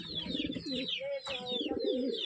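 Pigeons coo in repeated soft, rolling calls, close and continuous, with several birds overlapping and a faint voice underneath.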